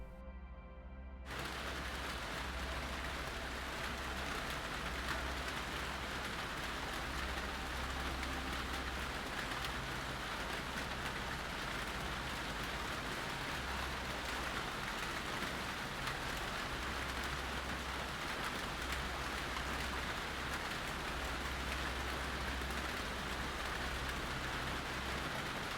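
Steady rain falling, a dense continuous hiss of drops that begins abruptly after a brief quiet moment and then holds evenly at moderate level with no voices.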